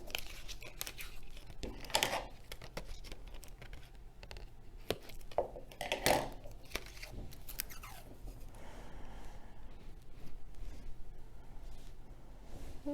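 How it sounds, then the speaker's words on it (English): Washi tape peeled up and torn while making a bookmark: continuous close crinkling and rustling with a few sharper rips, soft and without speech. "isn't that awesome about washi tape? You can just peel it right up"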